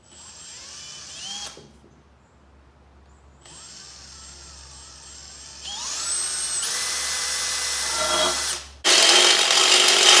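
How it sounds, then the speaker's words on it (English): A cordless power drill bores a hole, whining in bursts that rise in pitch as the motor spins up, with a pause between runs and a loud, harsh final stretch up close. "start drilling that out"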